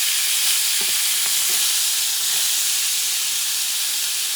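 Lamb shoulder blade chops frying in a pan, a loud, steady hissing sizzle with a few faint clicks, close and unbroken throughout.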